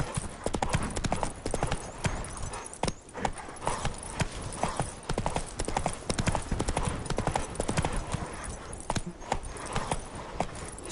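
A horse's hooves clip-clop in The Witcher 3 in a dense, quick and loud run of hoofbeats, each strike sharp and close, holding a steady galloping rhythm.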